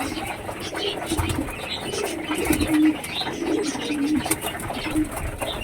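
Domestic pet pigeons with crested heads and feathered feet coo repeatedly in soft, low, rolling phrases close by, with occasional wing flutters over steady background noise.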